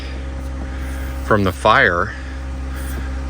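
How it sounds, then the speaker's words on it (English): A van engine runs at a cold riverside campground, giving a steady low idling hum throughout while a person briefly speaks over it. "Sorry about the engine noise."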